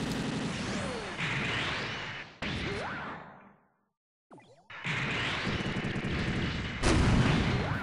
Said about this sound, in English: Looks like 3 shots to kill a C rank.